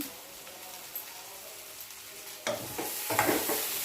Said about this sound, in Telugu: ఉప్పు కారం కలుపుకోవాలి